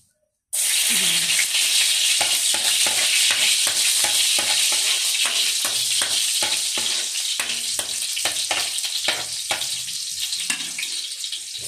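Garlic sizzles loudly in hot cooking oil, a steady crackling hiss broken by repeated scraping stirs, with faint water-like splashing mixed in and no talk over it.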